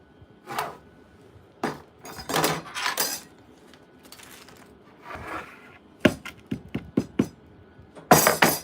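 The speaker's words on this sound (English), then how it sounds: "Sorry, I'm getting my steak equipment ready." Steak grilling equipment, pots, utensils and metal tools, being handled, giving a scattered series of clanks, clinks and knocks, with a quick burst of sharp taps toward the end, all close by and without talk.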